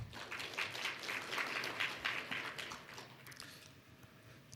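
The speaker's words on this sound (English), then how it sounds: "Please welcome him with a big round of applause." Audience applause at the 11th ASEAN Connectivity Forum, a steady wash of many hands clapping in a hall for about three seconds before thinning and fading out.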